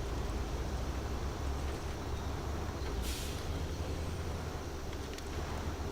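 A Freightliner 114SDR off-road truck in SnowRunner drives through a quarry, its steady engine rumble and road noise constant and loud throughout, with a brief airy hiss midway.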